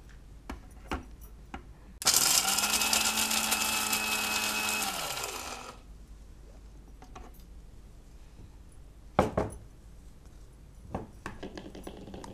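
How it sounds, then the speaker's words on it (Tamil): A kitchen mixer grinder coarsely grinding a soya chunk mixture: the motor whirs loudly for about four seconds, then winds down, with a few faint clicks and knocks before and after. "ஸோ குறை குறை தான் அரைக்க போகிறோம்."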